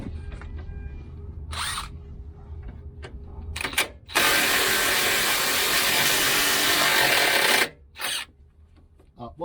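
An air impact wrench hammers on the steering box bolts of a 1995 Range Rover Classic 300TDi, a loud sustained rattling burst of about three and a half seconds, with short bursts and talk before it.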